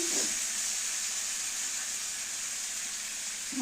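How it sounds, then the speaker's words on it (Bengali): Steady, loud hiss and sizzle of potatoes and pointed gourd frying in a pan for a curry, continuous and close with no talking. "রান্না হচ্ছে এখানে, আর মানে তরকারিগুলো ভাজছি তো আলু পটল"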